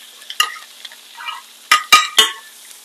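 Cabbage and tofu being stirred in a pan for a plant-based stir fry, quiet background with a few sharp scraping and clinking strokes of a utensil near the end.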